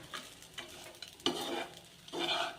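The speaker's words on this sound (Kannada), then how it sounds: "ಶೇಂಗಾ ಹಾಕಿ ಮಿಕ್ಸ್ ಮಾಡಿಬಿಡೋಣ." Roasted peanuts are stirred into pepper rice in a pan, a few short, soft scraping strokes of a spoon with brief pauses between them, quiet and close.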